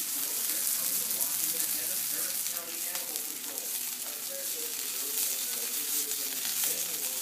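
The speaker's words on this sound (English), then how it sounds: "I got a small amount of organic ground beef getting cooked in some coconut butter" Organic ground beef frying in coconut butter, a steady close sizzle with faint crackles and occasional stirring, continuous throughout without talk.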